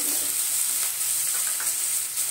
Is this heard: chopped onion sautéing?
yes